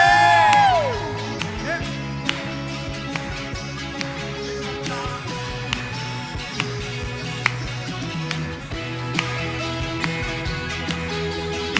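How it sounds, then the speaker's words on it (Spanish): A church congregation cheering and shouting for joy during a morning worship service, a sustained wash of crowd whoops and shouts mixed with music, lasting throughout. "¿Alguien tiene un grito de júbilo en esta mañana para el Rey?"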